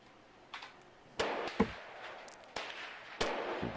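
Pistol fire from Gun Club VR, including a suppressed Makarov, as a handful of sharp irregular reports spaced a second or so apart, close and punchy over a quiet room tone.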